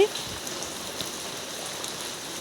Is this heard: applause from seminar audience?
no